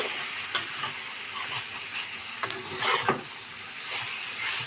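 Cooked cabbage tempering (thalimpu) stirred in a hot pan with spices, heard as a continuous close sizzle and hiss with intermittent scraping taps of a spoon against the pan.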